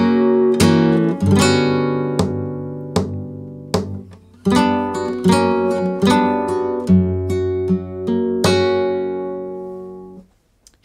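Solo flamenco guitar plays the basic soleá compás, loud and close: strummed chords struck in a repeating accented twelve-beat cycle, each ringing and decaying before the next stroke, ending with a final fading chord and no talk.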